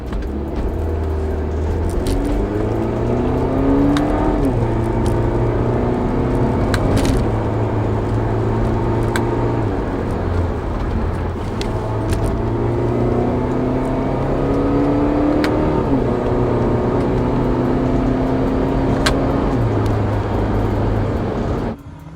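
A Mini Countryman JCW ALL4 R60's 218-hp turbocharged engine revs up repeatedly through the gears, rising whine and turbo whoosh building, dropping at each shift, loud and sustained from inside the cabin.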